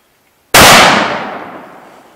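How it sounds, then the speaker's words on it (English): A single sharp gunshot from a .270 rifle cracks loud and close after a short silence, then rings off in a long fading tail. "he's shooting the 270"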